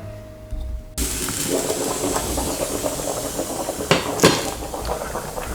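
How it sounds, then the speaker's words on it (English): After a short quiet start, a pot of beef tongue rumbles and hisses close by with steady boiling, broken by a couple of sharp metallic clanks near the end. "I can hear that tongue boiling."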